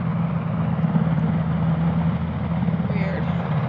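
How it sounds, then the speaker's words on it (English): A helicopter stands on a road close to a forest campsite, giving off a steady, loud droning hum, with a voice speaking quietly over it. "This helicopter like parked in the middle of the road?"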